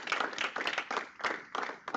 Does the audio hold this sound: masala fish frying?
no